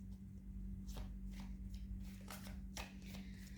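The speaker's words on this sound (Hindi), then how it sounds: "just want to shuffle it slow" Tarot cards are shuffled slowly by hand, giving soft, close papery riffles and slides in uneven bursts over a low hum. No one speaks.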